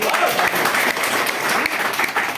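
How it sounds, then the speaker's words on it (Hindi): Audience at a marketing plan presentation breaks into loud, dense applause, a steady continuous burst of many hands clapping at close range throughout. "तो ताली उनके लिए एक बार"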